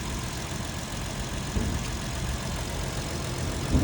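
A Ford car engine idles quietly with a steady low rumble, constant throughout with no voices.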